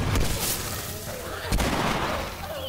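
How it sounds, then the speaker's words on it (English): A nail bomb exploding in The Last of Us, two sharp booming blasts under a dense rumbling background of the game scene. "nail bomb."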